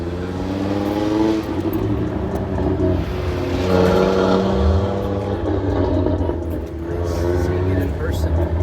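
Performance BMW M3 CS engine and exhaust at a large BMW car meet, a steady loud rumble with rising revs and harmonic tones, close by, with people talking over it throughout.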